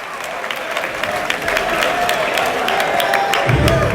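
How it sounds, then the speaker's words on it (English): Audience applause at a campus event, a steady wash of clapping and crowd noise that builds and holds throughout, with a low thump near the end. "Please show some love, give him another applause."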